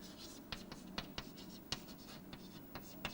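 A pen scratches out a handwritten equation in a series of quick, sharp strokes and taps with short irregular pauses, close and quiet, with a faint murmur of room noise beneath.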